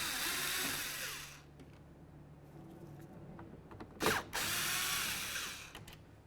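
A power driver whirs in short bursts to back out two T20 Torx screws holding the inner taillight of a Dodge Journey, close and mechanical with a brief ratcheting rattle between runs.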